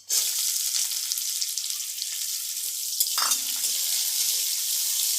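Chopped onions dropped into hot oil with frying garlic, a sudden loud sizzle erupting and continuing as a steady crackling fry, with a stirring scrape midway, close and alone.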